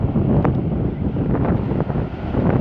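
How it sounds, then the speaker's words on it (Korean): Wind blows hard across a beach on the Uljin coast, buffeting the microphone in a constant roar, with waves of about a metre breaking underneath. "바람은 서쪽에서 동쪽으로 불고 있습니다"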